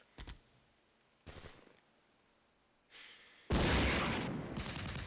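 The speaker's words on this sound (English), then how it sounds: "And mortars are hitting" Mortar shells land in the wargame Flashpoint Campaigns: Red Storm, heard as a few sharp, separated impacts that build into a loud, sustained rumble of explosions near the end, with no voices.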